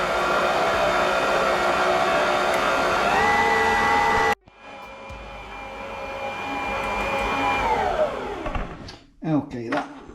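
A stand mixer kneading homemade pizza dough at medium speed, whining loudly and steadily, then cutting off abruptly before a quieter motor hum winds down, followed by a few clattering knocks.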